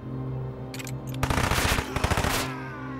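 Rapid machine gun bursts crackle in Headquarters: World War 2, a war strategy game, as dense rattling volleys over a constant low engine-like drone, loud and close for about a second and a half.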